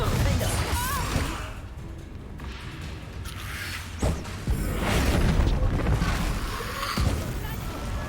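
In Hogwarts Legacy, a Confringo blasting curse explodes with a booming, whooshing burst amid dense, continuous game effects and voices.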